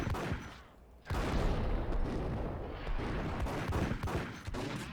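Rapid bursts of gunfire from the Max Payne video game crackle loudly, with a brief lull before dense, overlapping shots and volleys resume and continue to the end.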